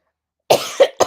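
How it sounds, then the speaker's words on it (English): Three short coughs in quick succession from a nearby person, after a stretch of silence. "I don't know why it is now that I have to cough"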